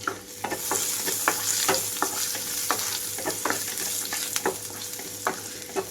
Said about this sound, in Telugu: వీటితో పాటుగానే జీడిపప్పు పలుకులు కూడా వేసి వేయించుకుంటున్నాను.